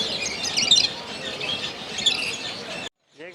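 A pair of ringneck parakeets in an exotic bird shop chirps and tweets nonstop. Their shrill, busy calls blend with the chatter of other birds, then stop abruptly, and a brief voice follows.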